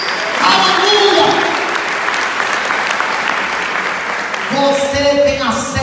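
A church congregation bursts into sustained applause at a Yom Kippur service, a dense wash of clapping with a voice speaking and singing over it near the end.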